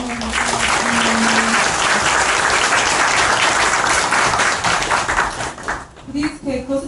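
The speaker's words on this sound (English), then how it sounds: "Let's give a round of applause." An audience at a Hawaiian hula performance claps in a loud, sustained round of applause, a dense patter that fades near the end as a voice speaks over it.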